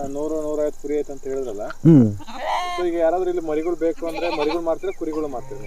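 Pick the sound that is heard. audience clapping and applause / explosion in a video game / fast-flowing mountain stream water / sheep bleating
sheep bleating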